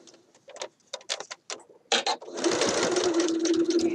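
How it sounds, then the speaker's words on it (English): A sewing machine stitches a quarter-inch seam slowly around the curved neck edge of a Simplicity 8014 shirt dress, starting in short separate bursts of needle clatter, then running continuously in a loud, steady whir. "I'm stitching slowly around my little curved edge so that the neck part looks really nice"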